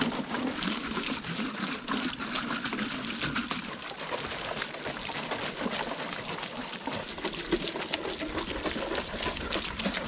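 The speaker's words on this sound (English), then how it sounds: "before I water this landing" Water poured steadily onto a packed dirt jump landing, a continuous splashing trickle throughout, fairly close, with no talking.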